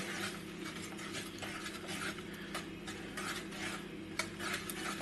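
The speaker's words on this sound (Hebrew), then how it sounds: "סוכר נמס, אבל אני בכל זאת ממשיך לערבב." Fig and plum jam being stirred in a pot at home, a spoon scraping through sugar and fruit in a steady, continuous rhythm with faint clinks of utensil against the pan, close and moderately quiet.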